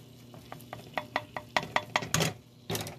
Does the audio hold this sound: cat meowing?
no